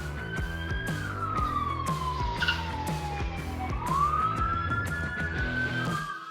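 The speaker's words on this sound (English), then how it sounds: "sirens began blaring throughout the neighborhood" Several police car sirens wail through a residential neighborhood during a high-speed pursuit, a steady sweeping tone rising and falling loudly and continuously, joined by engine noise throughout.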